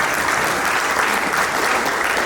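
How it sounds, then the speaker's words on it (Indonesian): Steady, dense applause from a church congregation at a pastors' seminary gathering, loud and continuous throughout with no gaps, and a faint murmur of voices mixed into the clapping. "Berikan tepuk tangan kita untuk Tuhan."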